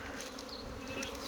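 A swarm of honeybees buzzes steadily and close, a dense continuous drone with no talking.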